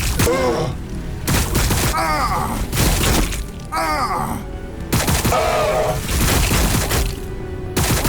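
Gunfire hitting a squad in Warhammer 40k Battlesector: repeated loud bursts of shots and impacts arrive in rapid waves, mixed with groaning alien cries and a brief shouted voice.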